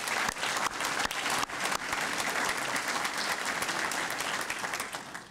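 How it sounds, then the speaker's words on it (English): An audience at a 2019 village State of the Village address gives sustained applause. The clapping is dense and continuous and sounds moderately distant, fading slightly toward the end. "can we give everyone a round of applause,"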